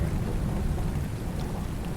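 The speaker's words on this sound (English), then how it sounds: "the thunder and lightning begins. Heavy rain and tempestuous winds." Thunderstorm sound effect for a Julius Caesar stage play, with heavy rain and wind forming a dense, steady roar and a low rumble beneath, no speech.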